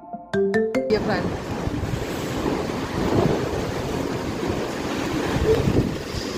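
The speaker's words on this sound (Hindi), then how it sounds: "धीरे धीरे आवाज यहाँ बढ़ती चली जा रही है बारिश की" Heavy rain approaching during a downpour in Ethiopia, a dense steady wash of broadband noise after a brief opening beep, building slightly and staying loud with some wind buffeting throughout.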